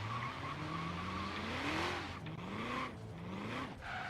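Car tires squeal and slide while drifting in Forza Horizon 3, a wavering high-pitched screech over a steady engine drone, pitch rising and falling as the slide continues.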